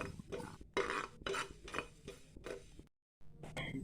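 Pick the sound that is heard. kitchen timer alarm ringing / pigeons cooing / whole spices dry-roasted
whole spices dry-roasted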